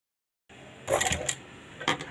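A sewing machine stitching along the edge of a dress runs in short bursts, a longer run followed by a brief second one, against a quiet background with no talk.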